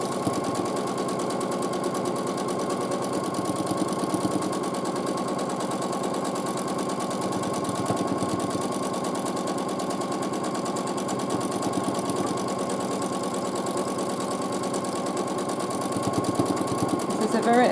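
Sewing machine quilting arches on a quilt, a continuous steady high-speed whirring hum that runs unbroken and close throughout, with a voice talking over it.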